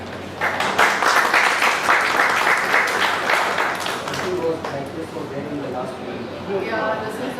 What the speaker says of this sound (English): can we have a big round of applause to the speaker?